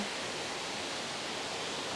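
A waterfall roars at the base of the falls in the Atherton Tablelands, a dense, steady broadband rush of falling water, close and unbroken, with no voices.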